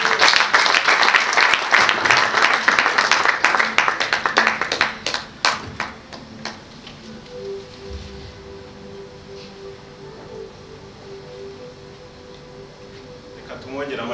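A church congregation applauds a pastor after her testimony: dense, lively clapping for about five seconds that thins into scattered claps, followed by a quiet room with a low sustained tone.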